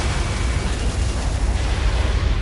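Explosions strike a laser cannon during an Ace Combat 7: Skies Unknown air battle, a continuous dense rumble of blasts and booms, loud and close, with no clear pauses between impacts.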